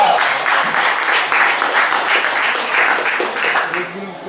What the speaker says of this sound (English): The applause is for the venue